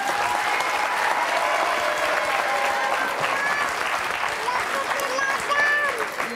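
Audience applause from a studio crowd, a dense steady clatter of clapping that fills the whole stretch, with voices talking faintly underneath.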